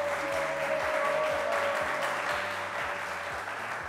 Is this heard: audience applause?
yes